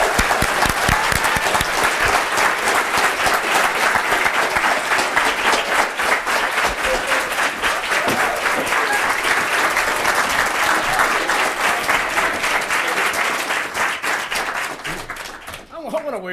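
Loud, sustained applause from an audience welcoming a guest, dense clapping continuing for about fifteen seconds before fading, with a voice beginning at the very end.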